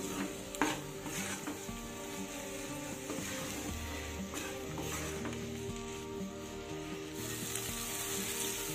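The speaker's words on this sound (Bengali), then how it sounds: "এবার আমি মশলার সাথে ডিমটাকে মিশিয়ে দেব, দিয়ে আবারও একটু ভাজা ভাজা করে নেব" Beaten egg sizzles with spices in a hot pan, a steady close frying hiss broken by occasional scrapes and taps of a spatula stirring, with no talking.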